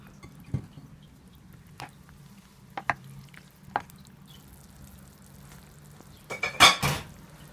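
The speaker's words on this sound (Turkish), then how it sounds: "Patlıcanlarımı belli aralıklarla karıştırarak kısık ayarda pişiriyorum." Eggplants simmering on low heat in a pot while a spoon stirs them: a few scattered clinks and scrapes against the pot, ending with a louder burst of metallic knocks and rattling, over a faint low bubbling hum.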